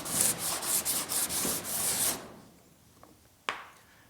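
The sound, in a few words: sanding sheet metal on a GTO body panel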